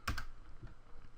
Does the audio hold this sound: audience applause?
no